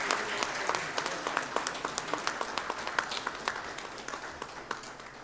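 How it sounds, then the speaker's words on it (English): Applause from the audience at ACECON 2025, an international conference on concrete innovations in Hyderabad, greeting a memento presentation. The clapping is moderately distant and steady, with sharp individual claps rising above the crowd throughout. "Ladies and gentlemen, please give them a big applause"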